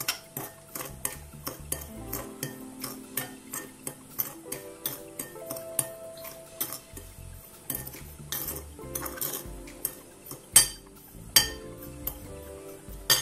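Sliced cucumbers are tossed with sugar and cinnamon in a bowl, with repeated close clinks and scrapes of a utensil against the dish in an uneven rhythm. A few sharper knocks come near the end, and no one speaks.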